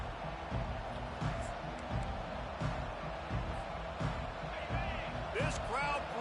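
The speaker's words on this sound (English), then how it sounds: "This crowd bringing the energy and noise early." Crowd noise fills a college football stadium after a touchdown drive, a broad, steady roar with rising swells, heard under a commentator's play-by-play.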